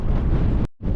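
Outdoor wind buffeting a microphone in a very windy spot, a loud continuous low rumble that drops out abruptly for an instant before gusting back.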